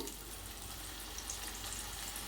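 Onion pakodi frying in hot oil, a steady soft sizzle and bubbling that stays faint and even throughout with no talk over it.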